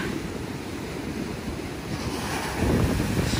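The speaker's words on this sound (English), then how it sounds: "walking this beautiful expanse of golden sand while these crazy waves come in" Ocean waves roll onto a golden sandy beach in Puerto Rico, a continuous rushing surf with wind buffeting the microphone and a bigger wave crashing closer near the end.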